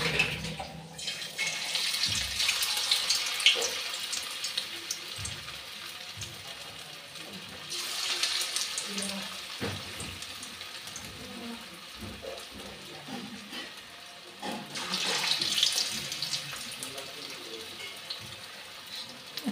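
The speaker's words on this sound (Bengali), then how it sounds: "লো স্টিমেই ভাজতে হবে, না হলে পুড়ে যাবে।" Lentil fritters fry in oil on low heat, a soft continuous hiss that swells into louder sizzling surges every several seconds, with faint talk in the background.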